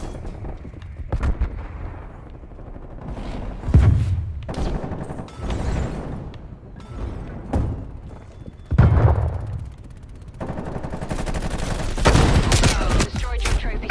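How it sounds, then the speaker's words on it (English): An online shooter video game session with a napalm airstrike and gunfire: repeated heavy booming explosions and crackling bursts of fire rise and fall loudly, with brief voices between. "Sidler, napalm strike inbound"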